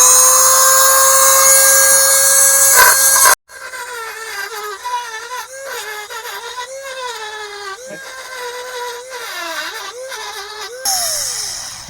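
A power tool with a carbide bit grinds on a 4WD Daytona exhaust manifold during installation. A loud, steady high whine cuts out abruptly, then shifting squealing tones wander up and down as the bit bites, before the whine returns.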